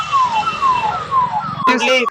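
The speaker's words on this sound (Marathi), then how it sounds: "चौकशीसाठी पोलिसांची गाडी पण आलेली आहे" A police car siren wails, sweeping downward over and over in steady cycles, loud and close, with a brief burst of other noise near the end.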